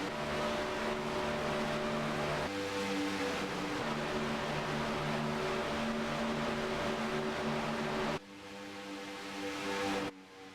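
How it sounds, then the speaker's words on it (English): Race car engines at Daytona drone loudly and continuously, a steady harmonic roar that shifts pitch around the two- and eight-second marks, then drops in intensity near the end, with no talk. "I love hearing these engines roar"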